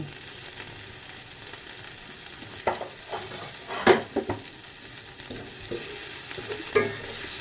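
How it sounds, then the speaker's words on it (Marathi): Tomatoes roasting in a pan for Maharashtrian vermicelli upma, with a soft steady sizzle and a few sharp spatula scrapes and stirs, fairly close and with no talk. "टोमॅटो पण छान आपल्याला भाजून घ्यायचं"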